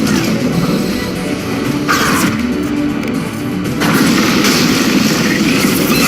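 Gunfire and explosions from Mass Effect 2 during a fight aboard the Alarei, a loud continuous battle din with heavy booms and sharp bursts, including a strong impact near two seconds and another near four.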